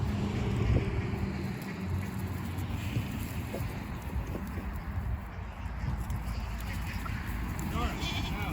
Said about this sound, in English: I'm going to let the goats out.